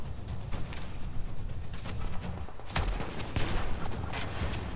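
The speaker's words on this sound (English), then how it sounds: "run in the street when there's a damn machine gun there." Machine gun fire in the video game The Division, rapid bursts of gunshots in uneven volleys with sharp cracks, loud and close amid a dense battle din.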